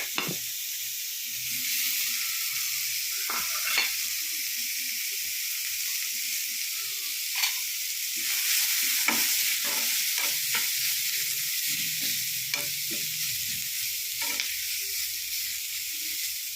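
Grated coconut and garlic hitting a hot pan for pathila thoran, a steady hissing sizzle with scattered light scrapes and taps of a spoon, close and even throughout, no voices.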